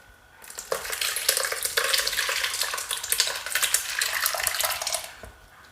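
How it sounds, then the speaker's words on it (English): Red wine and damson sauce poured into a muslin-lined colander, giving a steady, close splashing and trickling stream that runs for about five seconds with faint clinks, then tapers off. "And just carefully pour the sauce into it."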